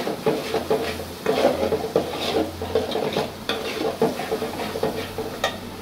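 A goat head being sautéed and stirred in a pan, with steady scraping strokes of a spoon against the metal under a continuous sizzle, repeating every second or so, close and clear.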